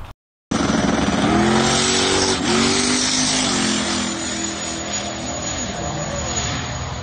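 A drag race car roars hard down the strip on an 8-second pass, a loud sustained engine blast with quick upward shifts that gradually fades as it pulls away.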